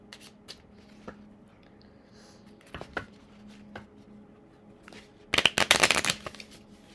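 Tarot cards are shuffled close by. Soft, scattered taps and flicks come first, then a dense riffling burst of cards near the end.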